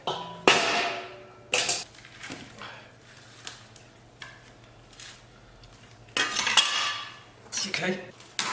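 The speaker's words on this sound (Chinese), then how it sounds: "小脚丫给剁下来" A cleaver chops the feet off a small supermarket chicken, with several sharp, loud chops on a board in two clusters, alone and close.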